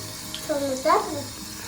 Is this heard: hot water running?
yes